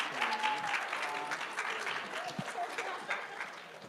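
Applause for panelists at a university student government senate candidate Q&A, a moderate spread of clapping with cheers and voices mixed in, fairly quiet and distant.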